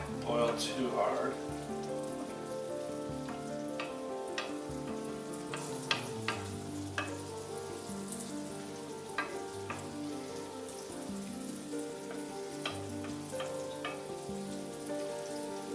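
Spicy red sauce with fresh grouper bubbling in a pan, a soft, steady sizzle and crackle with scattered pops, faint tonal sounds in the background.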